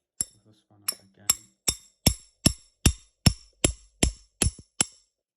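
A spanner taps a metal tap part about a dozen times in a steady rhythm, each strike a sharp, bright clink that rings briefly, close up during a tap washer repair.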